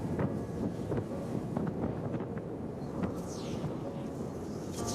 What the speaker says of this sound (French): Le vent me glace le visage.